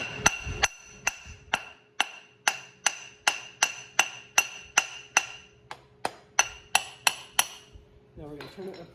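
A hammer taps a sprocket onto a mini bike shaft in a quick series of about twenty light, bright metallic strikes, evenly spaced and close, with a brief clatter at the end.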